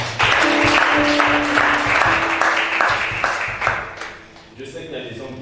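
A church congregation applauds loudly and steadily in a large room while a voice speaks over the clapping, which then fades out toward the end.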